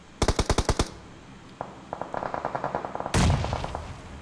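Rapid automatic gunfire in a competitive shooter scrim match: a loud burst of about eight shots, then a quieter string of distant rounds, then another loud close burst of fire.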